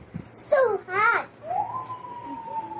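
A voice imitates a siren, starting with short rising and falling yelps and then sliding into a long, steady wail that slowly fades, with a little speech-like sound at the start.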